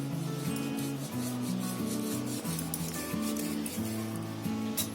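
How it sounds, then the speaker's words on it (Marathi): Potato being grated by hand into a bowl of soaked sabudana mixture for a breakfast dish, giving a continuous close rasping scrape with steady strokes and no voices. "त्याच्यामध्ये आपल्याला आता बटाटा टाकायचे किसून"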